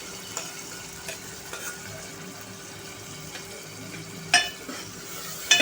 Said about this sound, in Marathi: आणि हे वाटण छान असं परतायचं आहे तेलावरती.